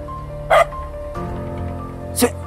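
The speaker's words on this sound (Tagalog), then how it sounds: "Ito may aso pala dito mga kamusang." A dog barks twice, a few seconds apart, close by in a quiet rural setting, with a faint hum and murmur in the background.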